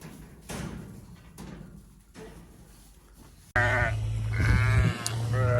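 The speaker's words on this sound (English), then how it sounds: "The sheep over there are causing trouble." Sheep bleat on a farm during lambing season, a muffled stretch of distant calls and clatter giving way to loud, close, overlapping bleats from several animals.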